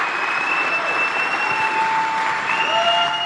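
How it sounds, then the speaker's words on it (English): Steady, dense applause from a large political rally crowd in Juneau, Wisconsin, sustained and loud throughout with a few whistles rising over the clapping. "Let's give him a round of applause."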